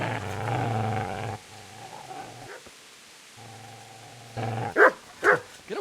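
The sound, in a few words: dog barking and growling in video game Kingdom Come Deliverance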